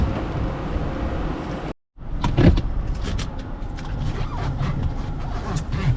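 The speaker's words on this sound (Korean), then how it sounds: "시운전 한번 해보도록 하겠습니다." Hyundai Sonata New Rise on a test drive: a steady engine and road rumble, broken by a brief silent gap, then continuing with scattered clicks and knocks inside the cabin.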